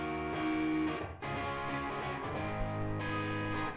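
Distorted, sustained guitar chords run through Valhalla Room reverb and light compression in a beat production session, ringing dense tones with a brief cut and roomy tail before the chord returns, no talking.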